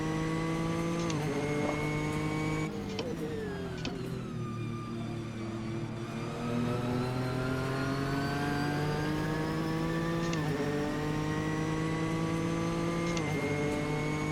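Turbocharged Nissan GTR GT3 race car engine in a racing video game at Road America, droning loudly and steadily with rising revs, gear shifts and brief dips, continuous throughout without talk.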